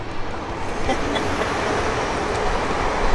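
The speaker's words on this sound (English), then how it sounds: "Every time I pick the camera up, there's a train." A train passing near a rail line outdoors, heard as a steady, loud broadband rumble and rush that holds for about three seconds with no clear breaks.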